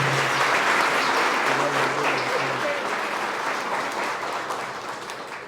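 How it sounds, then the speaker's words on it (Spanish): Congregation applauding loudly at a Catholic Mass after singing happy birthday to Yusmari, a dense steady clapping that fades slightly toward the end, with a faint hum of voices beneath. "Fuerte el aplauso."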